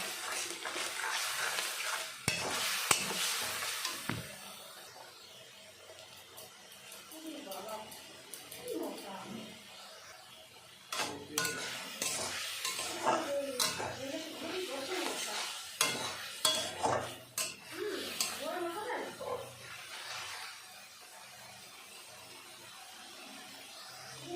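Spices with salt, turmeric and red chilli powder fry and get stirred in a pan for a koi fish and potato curry. Scraping stirs and bursts of sizzling repeat up close while people talk over it.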